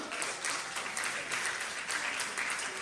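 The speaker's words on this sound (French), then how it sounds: "Je suis sûr que ce sont des enfants de professeurs qui applaudissent." An audience breaks into sustained applause, dense clapping that swells and falls slightly as it continues for a few seconds.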